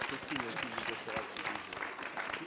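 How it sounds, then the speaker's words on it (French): Applause from an audience at a Three Minute Thesis regional final fills the room, dense and steady throughout, with voices mixed into the clapping. "J'aimerais qu'ils viennent sur scène pour les applaudir."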